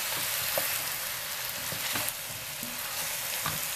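Pequi being stirred into chicken in a pan for a traditional galinhada, a steady close sizzle with scraping spoon strokes every second or so and no talk.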